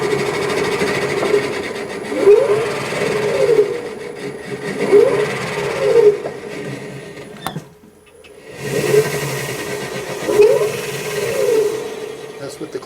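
Jeep CJ7 electric conversion drivetrain spinning with the clutch in, a steady close whir with rhythmic rising whines and vibration, pausing briefly before resuming.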